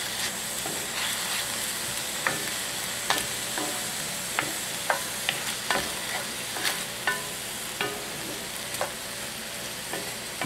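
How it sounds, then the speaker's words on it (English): Onions with salt and black pepper are stirred in a hot pan, giving a soft continuous sizzle with regular scraping and tapping strokes of the utensil, close and fairly quiet, with no voices. "Bit of salt, 2 pinch. You just have to mix this."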